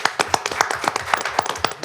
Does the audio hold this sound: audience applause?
yes